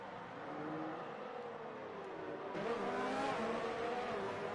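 Open-wheel F2 race cars in a racing video game at the Abu Dhabi Grand Prix, pulling away after a virtual safety car period, their engines rising in a steady, loud, layered roar with several cars at once and no talk.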